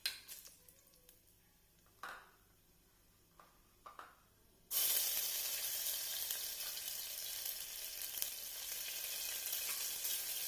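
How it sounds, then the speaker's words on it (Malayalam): Cashews and raisins roasting in hot ghee: a few faint clicks and rustles, then a sudden loud, dense sizzle that holds steady and close for the rest of the time, with no voices. "അതിലേക്ക് അണ്ടിപ്പരിപ്പ് ചേർത്ത് കൊടുക്കുക. അണ്ടിപ്പരിപ്പ് ഒന്ന് നിറം മാറി വരുമ്പോൾ അതിലേക്ക് കിസ്മിസ് ചേർത്ത് മൂപ്പിച്ചെടുക്കുക"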